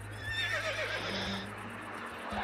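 An American Quarter Horse in the Star Stable video game rears and lets out a high, wavering neigh. The neigh sits up close over a steady low hum, and a brief softer whinny follows.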